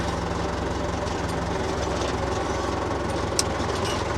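A tractor engine runs continuously during hay fieldwork, with a steady low, rumbling drone and faint knocking vibration, close and fairly loud, with no talking over it.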